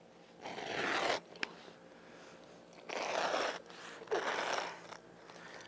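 Carpet being cut with a knife in three short rasping strokes, each about a second long, with quiet pauses between and a small tap in the middle.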